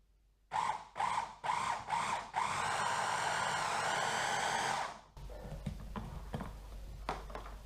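A blender full of milk for breakfast gives four or five short, loud whirring pulses. Then it runs in one sustained burst before cutting off, leaving quieter handling noises.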